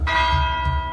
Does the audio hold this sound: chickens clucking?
no